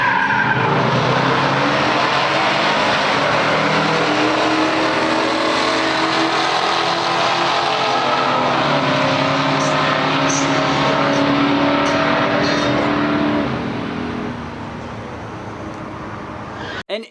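A 1966 Ford Fairlane GTA and a 1974 Firebird 455 in a pure stock quarter-mile drag race, engines roaring loud and sustained with tire squeal, then fading as the cars pull away.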